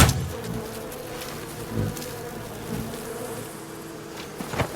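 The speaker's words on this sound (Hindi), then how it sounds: "अगर मैं मधुमक्खी के छत्ते पे एरो मारूं" Bees buzzing around a beehive in the video game Where Winds Meet, a steady close insect drone with a few louder swells, and no voices.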